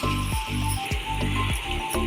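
Tomato puree sizzles and spits in a hot pan with golden fried onion, a steady close frying hiss with rhythmic stirring scrapes about every half second.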